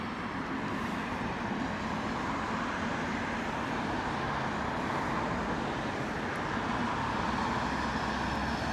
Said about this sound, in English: KLM 777 directly overhead.